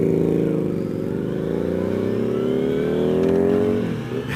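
A Kawasaki motorcycle's exhaust revs up and holds a rising, throaty engine note, then drops off near the end. It is loud and close, with no talking.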